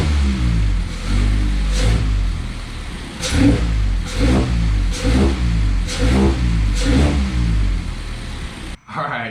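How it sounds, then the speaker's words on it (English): Mazda ND Miata with an Injen short ram intake, engine revved repeatedly from idle in about seven sharp blips, loud and close with strong induction roar, a faint voice briefly underneath. "you could definitely hear, at least in the revving at idle, a lot of induction noise from this intake"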